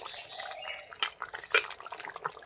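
Bengali chorchori of bhetki fish head with potatoes simmers in a pot, giving soft, irregular bubbling pops and a light wet crackle, quiet and close.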